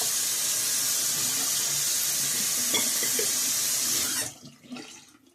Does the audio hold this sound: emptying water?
yes